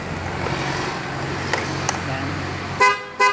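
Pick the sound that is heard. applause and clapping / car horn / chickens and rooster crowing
car horn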